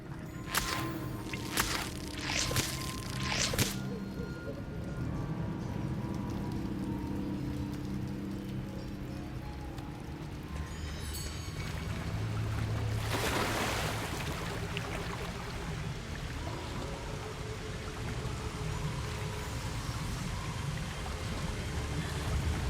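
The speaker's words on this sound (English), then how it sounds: "The waterfall." Steady rushing water of a waterfall in Hogwarts Legacy, a broad continuous roar that swells slightly midway, with a few brief sharp magical swishes near the start.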